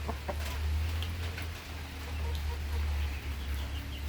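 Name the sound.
chickens clucking, Rhode Island and Brahma hens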